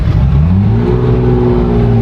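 Nissan Skyline R32 GT-R drag car with a huge rear tire, engine revving loud and close, its pitch climbing and then holding a strong steady drone for about two seconds, with no voices.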